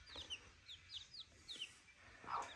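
A hen with her chicks clucking on a farm, soft repeated clucks and high peeping chick calls scattered through, fairly faint and close, with a louder burst near the end and no talking.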